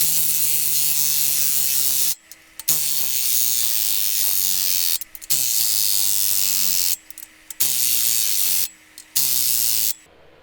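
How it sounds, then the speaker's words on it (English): Torque wrench ratcheting while tightening the flywheel bolts on a rebuilt Golf GTi 1.8 engine: loud, close, steady buzzing ratchet runs of a couple of seconds each, split by short pauses as each bolt is turned. "these flywheel bolts have to be torqued up to 60 Newton meters plus 90 degrees, which is a quarter turn"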